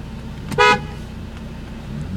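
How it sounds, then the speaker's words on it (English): A 1999 Saab 9-3 SE convertible gives one short, loud honk of its car horn, close by, over a quiet idling background. "Good horn too."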